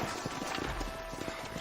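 Horse hooves clop in a steady walking rhythm in the Western video game Red Dead Redemption, moderately close over a faint ambient bed.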